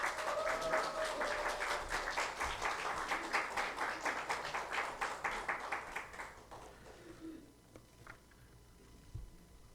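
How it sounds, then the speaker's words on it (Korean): A church congregation at a Sunday worship service claps and cheers to welcome a pastor, with thick rhythmic clapping that slowly thins out and fades to a near-quiet room. "큰 박수와 함성을 해주시기 바랍니다"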